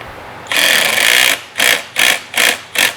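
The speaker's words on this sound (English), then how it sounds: "you're just gonna be careful because you're screwing into plastic" A power driver runs T30 Torx screws into a plastic fan spacer on a 1997 Grand Prix GTP, first in one long whirring run and then in four short, evenly spaced bursts, loud and close.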